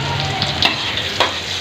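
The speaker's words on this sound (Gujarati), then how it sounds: "આ લીલું લસણ, આ લીલી ડુંગળી નાખી દો, પછી હલાવા મળો, ધીમો ધીમો રાખો।" Green garlic and green onion sizzle and fry in a pan with cumin as a spoon stirs them, a steady close hiss broken by two brief scraping clatters.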